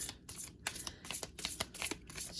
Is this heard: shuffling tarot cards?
yes